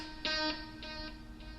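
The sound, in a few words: electric guitar note with quarter note delay, 600 ms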